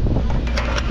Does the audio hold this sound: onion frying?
no